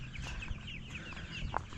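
Chickens in a chicken tractor cluck steadily, several birds overlapping in soft repeated calls with a sharper squawk near the end, moderately distant and without voices.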